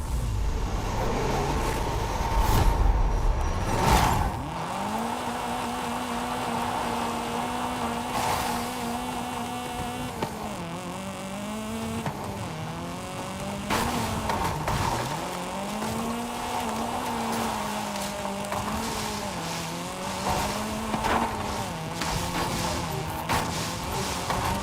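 A Lamborghini Murcielago engine in a racing video game revs hard and steadily, its pitch climbing and dropping through repeated gear shifts, loud and continuous for the whole stretch with a faint background bed.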